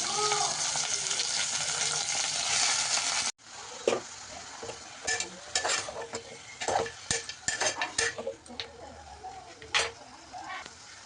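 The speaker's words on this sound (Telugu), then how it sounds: "ఆనియన్స్ అయితే ఫ్రై అవుతున్నాయి, ఇంకా మనం చికెన్ కూడా యాడ్ చేసుకుందాం" Onions and country chicken frying in a pan for natukodi pulusu, first a dense steady sizzle, then a quieter stretch of irregular stirring clinks and scrapes against the pan.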